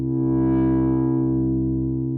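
A synthesizer pad in Pro Tools with its filter envelope enabled holds a steady low chord, its upper harmonics swelling then closing, loud and sustained with faint rhythmic pulses beneath and no talking.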